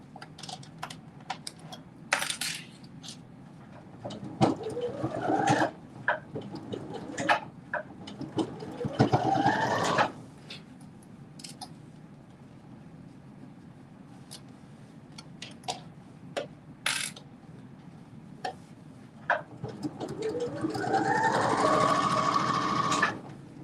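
Home sewing machine stitching wool culottes, running in several bursts of rapid mechanical whirring with brief pauses between them, close and fairly loud, with a faint rising tone near the end.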